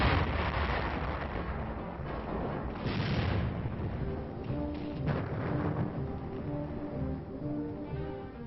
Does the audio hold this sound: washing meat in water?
no